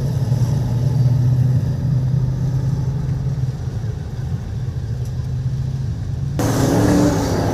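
Racing cars at a circuit race meeting get going again after an incident in turns 1 and 2, their engines a steady loud roar under rising revs, with a brighter burst of acceleration near the end.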